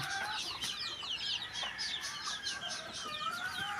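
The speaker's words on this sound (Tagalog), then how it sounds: "May mga sisiw ang manok." Several chickens, a hen with chicks, clucking and chirping close by, a busy overlapping chatter with occasional higher peeps from the chicks.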